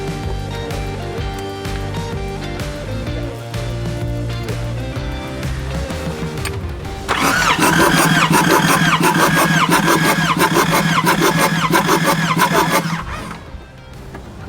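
A 4WD diesel engine turning over on the starter with its glow plugs removed for a compression test. The cranking is steady and mechanical, rising into a louder, busier whirr partway through before it cuts off, with no talk over it.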